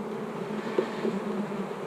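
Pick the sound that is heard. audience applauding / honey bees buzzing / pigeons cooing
honey bees buzzing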